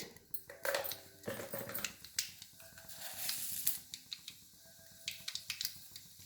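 Mustard seeds crackling and popping in hot oil in a cooking pan for a bitter gourd fry, giving sharp irregular pops over a soft sizzle, close by.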